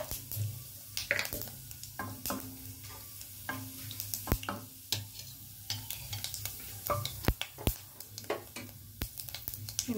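Cumin seeds sizzle in hot oil in a pan, a soft continuous frying hiss punctuated by sharp pops and spoon clicks, close up with no talking.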